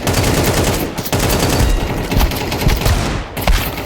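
Rapid, dense bursts of gunfire fill a Counter-Strike 2 deathmatch, loud overlapping automatic fire and shots cracking continuously with brief gaps, no talking over it.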